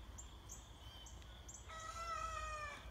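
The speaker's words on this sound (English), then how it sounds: "And my roosters are trying to learn how to crow." Young roosters attempt to crow on a quiet morning, giving a few short, faint calls followed by one longer, wavering crow at a distance.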